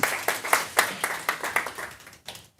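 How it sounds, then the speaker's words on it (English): Audience applause at a tech talk session of a hackathon, sparse and fairly close with individual claps clearly separated in an irregular rhythm, thinning out and fading toward the end. "A round of applause to Michael Schwartz again."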